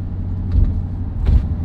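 An Alfa Romeo 8C Competizione rolls in at low speed, its engine giving a steady, close, low rumble with two brief swells of louder mechanical noise.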